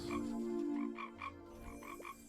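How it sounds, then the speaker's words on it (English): Frogs croak in a field in the Roblox game Bee Swarm Simulator, a run of short evenly spaced croaks heard alone over a low steady hum. "Look at that field, that's full of frogs."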